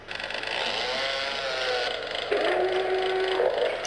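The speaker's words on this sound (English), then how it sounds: "but the chainsaw takes ammo. It's also a lot stronger. And it does that now." Chainsaw weapon in the video game Brutal Doom 64, a steady buzzing motor whine that jumps to a higher, harsher revving pitch partway through, loud and close with no talk.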